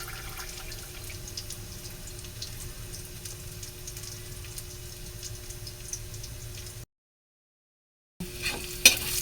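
Garlic sautéing in a pan gives a soft, steady sizzle with light scraping and tapping as it is stirred, then cuts out briefly before louder stirring clatter resumes.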